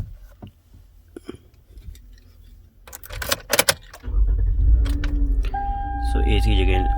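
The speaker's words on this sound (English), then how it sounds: "Let us switch on the car and see if it works." Keys jingle in the ignition of a 2010 Toyota Highlander, then the engine cranks and catches, settling into a steady, close, loud low idle that runs to the end.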